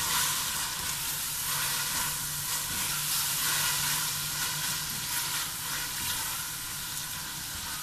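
Chili sauce, soy sauce and tomato sizzle and fry in a pan while being stirred, a steady close hiss with faint scraping, no voices, as part of preparing veg macaroni.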